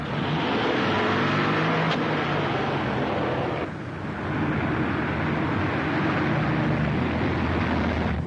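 A car engine runs steadily and fairly loud as the car pulls away, a 1940 radio-drama sound effect. The engine holds a continuous rumble with a brief dip partway through, and no voices are heard.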